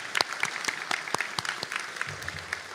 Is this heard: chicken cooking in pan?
no